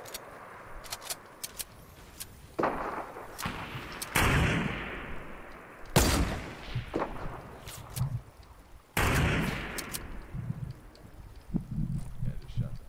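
Gunfire in the video game Fortnite Chapter 2, several loud bursts of shots at irregular intervals, with people talking over and between them.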